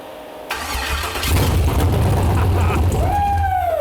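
A junkyard GM LS V8 cranks and fires up, a brief starter whir giving way to a loud, rough idle rumble close by, with a rising whine near the end.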